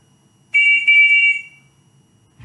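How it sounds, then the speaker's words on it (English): A single shrill whistle blast sounds for about a second, loud and close, after quiet room noise. "I also found a whistle."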